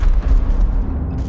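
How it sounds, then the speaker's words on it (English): Cannon and gunfire from the Great War boom in a dense, loud rumble of low blasts and bursts that fades slightly toward the end. "The cannons and gunfire eventually fell silent"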